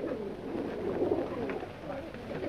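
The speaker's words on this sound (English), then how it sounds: "Nancy, are you positive you saw that pigeon stop at this house" A pigeon coos softly in low, rolling murmurs over a dull background hum, fairly faint and steady throughout.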